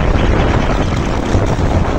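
Strong wind roars across a hilltop where a kolecer pinwheel spins, giving a loud, continuous rushing buffet with heavy rumble against the microphone and no clear pauses.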